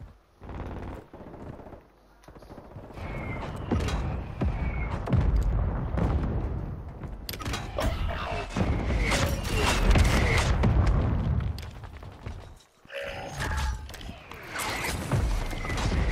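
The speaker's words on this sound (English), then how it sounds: "There's a mortar strike coming." Mortar strike explosions in an online shooter game, a dense run of heavy blasts, booms and rattling gunfire pounding steadily for most of the stretch, with a brief lull before the impacts resume loudly.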